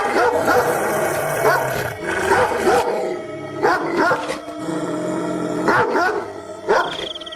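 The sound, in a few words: dog barking loudly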